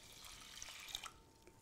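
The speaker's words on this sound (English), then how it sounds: "And then into that, I'm putting 250 mils of cold water" Cold water is poured into a bowl of jumbo oats, 250 ml in all, making a short, soft, quiet trickle that lasts just over a second.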